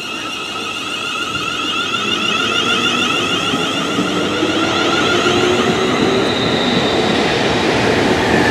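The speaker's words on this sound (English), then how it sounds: "Now leaving with the 1455 London Midland Service to London Euston" A London Midland class 350 electric train pulls out of Crewe station, a steady loud rumble with rising whine and tonal hum, no talking.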